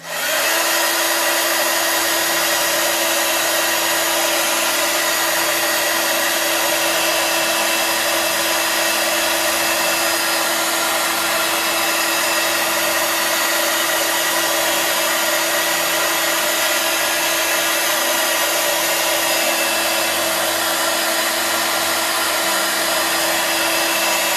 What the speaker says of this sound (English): now we have to dry it